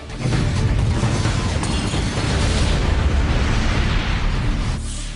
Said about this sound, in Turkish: Kazadan 1 saat 30 dakika önce sızıntı yapan yoğuşma noktası C modülünde patladı.